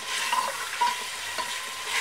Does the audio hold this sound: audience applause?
no